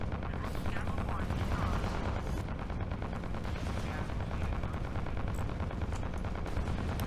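Video game gunfire rattles on continuously in dense, loud automatic bursts with no pause.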